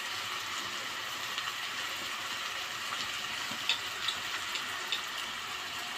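Rice with spices, bay leaves and a cinnamon stick sizzles steadily in ghee or oil as it is stirred, with a constant close frying hiss and small occasional clicks of the spoon, and no talk.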